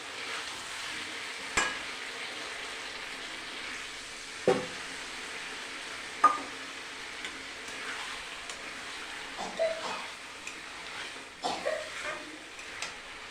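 Chicken curry in a pan gives a steady broadband sizzle, punctuated by several sharp clatters and bursts as water goes in and the pot is stirred, with no talk.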